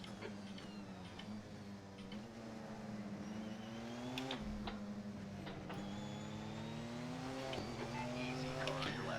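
Race cars in Assetto Corsa at Interlagos, during a multiclass endurance race, give off a continuous close engine drone that shifts pitch through gear changes, with brief downshift blips and a voice talking over it.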